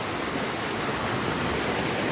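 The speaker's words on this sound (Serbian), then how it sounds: "Ova reka se zove Beušnica i uliva se u reku Neru." The Beušnica river in Romania rushing over its bed, a dense, even hiss of flowing water heard up close with no voices.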